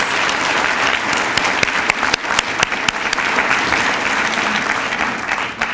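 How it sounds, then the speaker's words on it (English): An audience at a 50th anniversary Hall of Fame celebration for Junior Achievement gives sustained, full applause for the honorees, steady loud clapping with a few sharper claps standing out across six seconds. "Let's give them one more round of applause."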